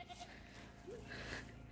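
A goat gives a short, faint bleat midway through on a small farmhouse plot in Syamsila, Nepal, set against a steady low outdoor background with no clear talking.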